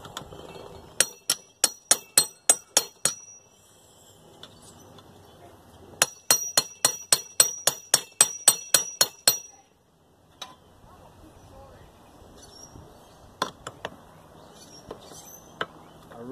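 A lightweight hammer strikes a tire bead on a manual tire changer in rapid bursts of sharp metallic blows, three clusters of quick ringing hits separated by pauses, with a few scattered taps toward the end.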